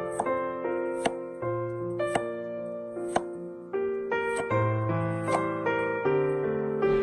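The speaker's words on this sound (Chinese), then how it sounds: "用刀将山药斜刀切成小段。" A knife cuts peeled Chinese yam into short diagonal pieces on a wooden cutting board, giving a steady series of crisp chops, close and clear, with soft ringing tones underneath and no talk.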